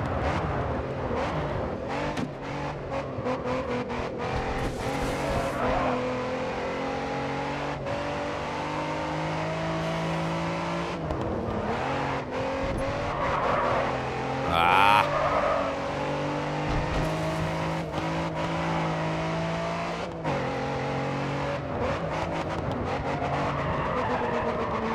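Race car in the Grid 2 racing game skidding out of control, tires squealing and engine revving through gear changes, with a long loud skid and a sharp squeal near the end, steady engine drone throughout.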